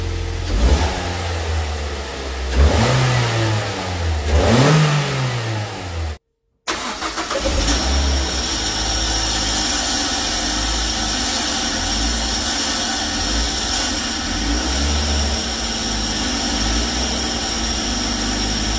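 A car engine running on its original intake revs in several rising and falling bursts, then drops into a loud, steady drone after a brief cut. The engine sounds close, with no talking.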